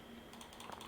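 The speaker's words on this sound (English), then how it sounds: "I'm using the arrow key on my keyboard to move it." Several quick computer keyboard key presses, arrow keys tapped in a short irregular burst, close up and faint against a quiet room.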